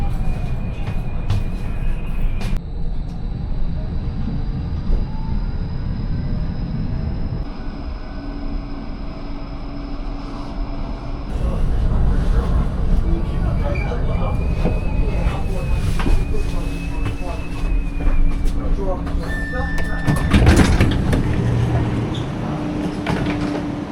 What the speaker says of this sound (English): This tram is travelling to Helensvale